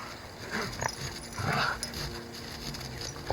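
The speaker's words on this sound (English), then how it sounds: "the dogs are distracting me." Dogs whimper and whine close by in short uneven bursts, with some shuffling and panting between them.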